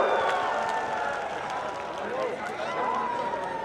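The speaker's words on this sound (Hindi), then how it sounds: "सभा को संबोधित करते हुए जोरदार तालियों से स्वागत" A rally crowd at a Narendra Modi election meeting in Taranagar applauds to welcome a candidate, with dense, continuous clapping and cheering washing over a large open gathering.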